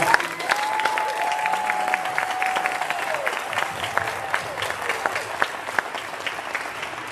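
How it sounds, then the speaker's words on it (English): Applause from the audience at a school award ceremony honoring students, a sustained wash of many hands clapping at moderate distance, with a held tone sounding briefly over it. "Let's give one more big round of applause for all."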